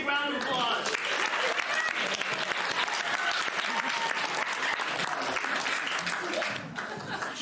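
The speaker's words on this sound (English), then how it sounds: "Let's hear a big round of applause." A theater audience at a live children's adventure show bursts into a big round of applause for a volunteer, dense clapping with scattered chuckles and voices, tapering slightly at the end.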